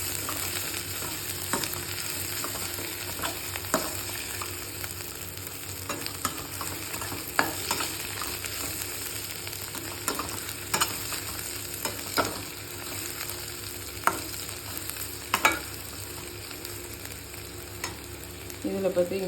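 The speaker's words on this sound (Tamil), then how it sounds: "இந்த பூண்டு போட்டுக்கலாம். இது ஒரு 2 நிமிஷம் வதங்கட்டும் எண்ணெயில்." Finely chopped garlic sautés in hot oil for a tomato pachadi, a steady close sizzle broken by repeated scrapes and clicks of stirring, with no talking.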